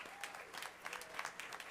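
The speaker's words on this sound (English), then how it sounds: "Let's give Dr. Dixon another round of applause." A board meeting audience gives a short burst of applause, scattered claps blending into a moderate, fairly quiet patter that carries on for under two seconds without talk.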